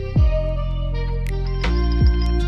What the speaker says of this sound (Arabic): وده صوت الجرس بتاع الساعه